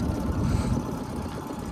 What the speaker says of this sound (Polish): Pal motor.